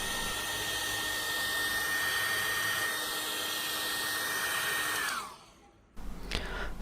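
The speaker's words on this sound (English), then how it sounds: "Take any hairdryer and heat the surface of the screen for 1 or 2 minutes." A hair dryer runs steadily and loudly for about five seconds while heating the glass screen of an iPhone X during a repair, then its motor winds down and cuts off, followed by faint handling noise.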